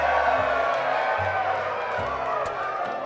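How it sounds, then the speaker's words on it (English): Crowd cheering sound effect plays as a steady wash of voices and whoops, with a low rhythmic musical bass line running underneath at moderate loudness. "I don't have any crowd noise. Oh, there I do."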